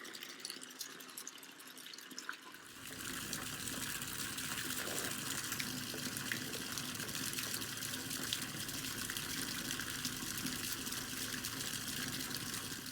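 Water gushes steadily from an outdoor tap after a quiet start, a constant rushing hiss that continues without pause.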